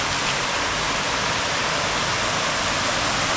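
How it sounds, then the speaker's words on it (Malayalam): Water pours steadily through the stone channels of Nishat Bagh, a Mughal terraced garden in Srinagar, Kashmir, as a dense, even rush close by that continues unbroken with no voices. "അതാ വെള്ളം ഇതിൻ്റെ ഉള്ളിൽ കൂടെയൊക്കെ ലീക്കായൊക്കെ വരുന്നു"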